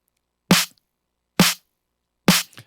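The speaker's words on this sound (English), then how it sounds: "you gain that thing really hard through aggressive clippy limiting" A snare sample gained up hard and slammed through aggressive clipping limiter, three loud, crushed, distorted cracks roughly a second apart, each with a short gritty tail and silence between.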